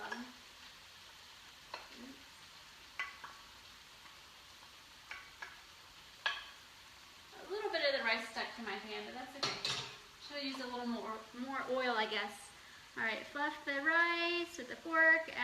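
Rice fluffed and stirred in a hot pan for a toasted rice bowl, scattered utensil clinks and scrapes early, then a steady sizzle and frying crackle building louder toward the end.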